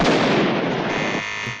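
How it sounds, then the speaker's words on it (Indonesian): A film scene of dynamite exploding at close range: one loud, broad blast that rumbles and slowly fades over a second and a half. "Akhirnya dinamit itu pun meledak di mulutnya sendiri."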